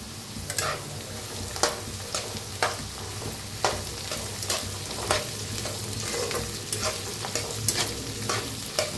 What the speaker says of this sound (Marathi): मिरची, मटर आणि काजू बी भाजून घेऊया।